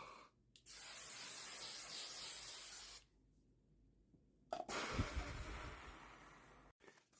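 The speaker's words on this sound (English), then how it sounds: "I'm using hairspray as setting spray." Hairspray used as a makeup setting spray hisses out in two long, close bursts of steady aerosol spray, separated by a short pause, with a brief faint puff at the end.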